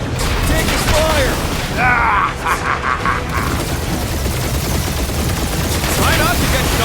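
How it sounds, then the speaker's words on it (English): Dense, continuous gunfire in Marvel's Guardians of the Galaxy video game, loud and sustained throughout with sci-fi weapon whines and voices talking over it. "Taking fire!"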